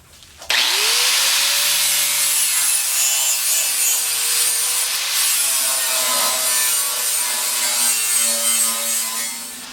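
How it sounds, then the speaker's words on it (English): An angle grinder grinding down the cut edge of a steel 7-foot Chevy pickup truck box, spinning up abruptly and then holding a loud, continuous whine with shifting pitch as it works the metal, close and alone. "I got my lines off a little bit, so I wanna grind it down"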